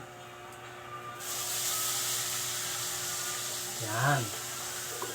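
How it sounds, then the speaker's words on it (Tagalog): A steady rushing hiss of water pouring into a pot, continuing for several seconds, with a brief voice speaking near the end. "lagyan natin ng tubig"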